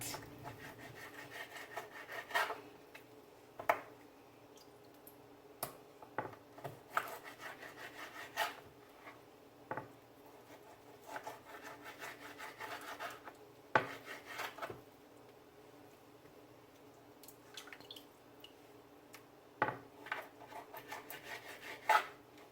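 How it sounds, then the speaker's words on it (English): A knife trimming excess fat off raw oxtail in a home kitchen, giving quiet close scraping and slicing strokes at an irregular pace with small knocks against the board, no talking. "I'm going to show you how I cut off my fat of my oxtail."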